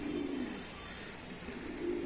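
Pigeons kept on a rooftop coo softly, a low murmuring call near the start and again near the end over a steady hiss of outdoor background noise.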